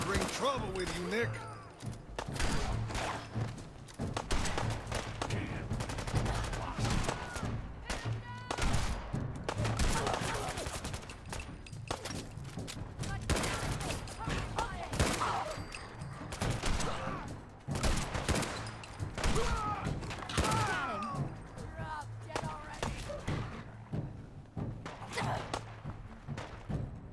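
Dense, sustained gunfire in the video game Mind Games, with repeated loud bursts and thuds layered over music and game sounds, while voices talk throughout.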